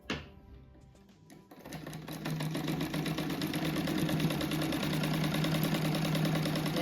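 A sewing machine stitches a seam on a patchwork rug, starting after a brief pause and then running in a fast, steady, rhythmic whir close up, with no talking.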